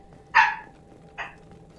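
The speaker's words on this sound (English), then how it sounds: "Hello, Barky Dog" A dog in the Mass Effect 2 video game gives two short barks, the first louder and the second quieter a moment later, over a faint background hum.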